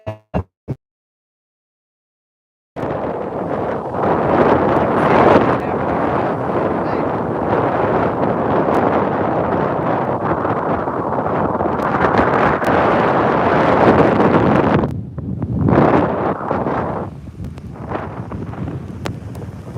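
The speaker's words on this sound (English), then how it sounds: "Incoming, prepare for wind." Strong wind gusts batter the microphone at a stormy beach, a loud roaring rush that starts abruptly after a few seconds of near-silence, briefly dips, then surges again.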